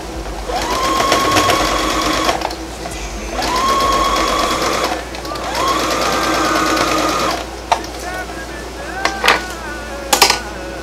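A sewing machine stitches a brim onto a reversible Ankara bucket hat, running in three sustained whirring bursts with brief pauses, followed by a few clicks and handling noises, loud and close.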